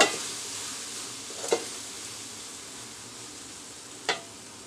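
French fries frying in a pan with a steady, close hiss of sizzling oil and two brief clinks of stirring, with no voices.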